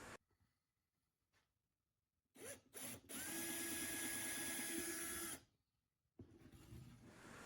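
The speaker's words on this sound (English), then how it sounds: "I'm drilling down through the base" A power drill boring down through a wooden base in a wood shop, a couple of short bursts and then a steady, loud whirring run of about two seconds, with quiet pauses and faint handling noise around it.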